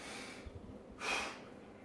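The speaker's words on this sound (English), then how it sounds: "Breathe in through the nose." A person breathing in through the nose during a weight-training warm-up, a single steady breath drawn in over a low background hum after a few soft shuffling sounds.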